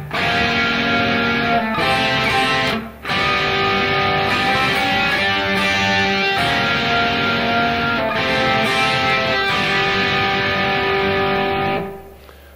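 Distorted electric guitar plays the opening chords of a song slowly, dense sustained chords ringing close and loud, with a brief break near the start and a fade at the end.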